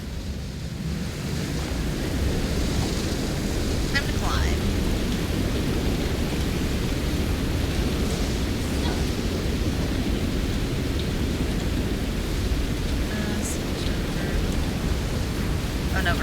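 Rain and a distant thunderstorm rumble steadily in the video game South of Midnight, a broad continuous wash of downpour with low rolling thunder and a few faint higher chirps scattered through.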